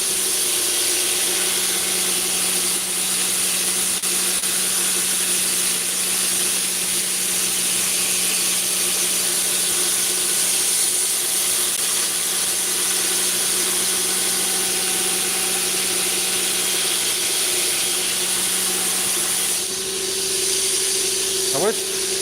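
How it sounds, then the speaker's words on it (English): A grinder works slowly on hard 64–65 HRC knife steel, a steady droning whine running throughout while a person talks over it. "So it does grind a little slow."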